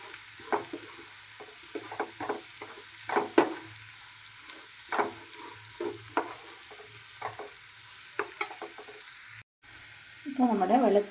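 Garlic and dried red chillies frying in oil for a mango garlic pickle, a soft continuous sizzle with stirring clatters against the pan, a person talking over it.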